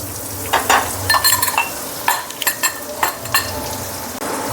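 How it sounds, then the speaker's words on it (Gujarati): Spice masala sizzling in hot oil in a pan, a steady loud fry with repeated scraping and clinking of a spoon stirring, no talking. "હવે આપણે તેમાં આ મસાલો નાખી દઈશું અને બરાબર થવા દઈશું।"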